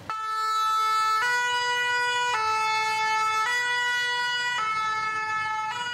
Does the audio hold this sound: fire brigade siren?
yes